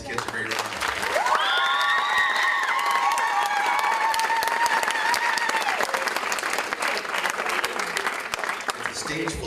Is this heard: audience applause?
yes